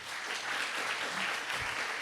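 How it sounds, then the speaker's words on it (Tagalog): Steady applause from a church congregation at an online Christmas service, broad and even for about two seconds with no talk over it. "ituloy natin yung palakpak sa Lord"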